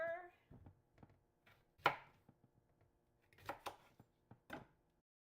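A knife chops cucumber on a cutting board in sparse, irregular strokes: quiet isolated taps, then a sharper louder knock and a short cluster of cuts near the end, all close and alone in a quiet kitchen.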